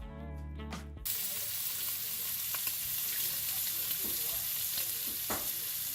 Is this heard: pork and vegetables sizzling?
yes